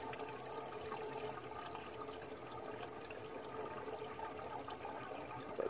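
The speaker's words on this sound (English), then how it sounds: "These are the two drains that the water gets sucked into" Continuous broadband water rush and gurgle as water is drawn into the drains of a backyard aquaponic fish tank, steady and fairly close with no talking.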